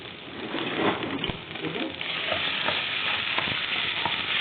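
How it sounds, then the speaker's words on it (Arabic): Chunks of lamb tail fat sauté in a small splash of oil in a pan, giving a steady, close sizzle and crackle that runs unbroken throughout. "انا مش هسيح اللية، انا هشوحها بس"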